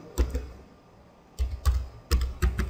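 Visual Basic code being typed on a computer keyboard: small clusters of close, crisp key clicks separated by short pauses, in a quiet room with no speech.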